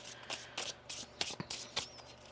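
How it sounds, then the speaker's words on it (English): A tarot card deck being shuffled during a full moon reading, heard as a string of short, crisp riffling bursts about every third of a second, close and fairly quiet. "One more shuffle here."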